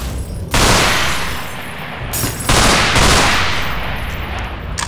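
Gunfire in the video game Underhell comes in two long, loud bursts of rapid shots, each fading before the next volley begins.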